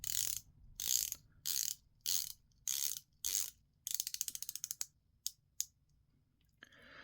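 Ceramic bezel of a WatchDives SD1967 Sharkmaster dive watch being turned, several rotations of harsh rapid ratcheting clicks in bursts, then a faster run of distinct clicks and a few single snaps, close and crisp.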